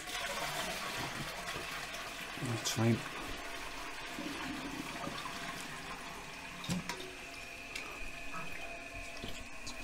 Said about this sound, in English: So we'll give this a flush.